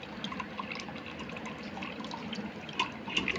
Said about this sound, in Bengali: জলটাকে একটু ছেড়ে দেবো খানিকটা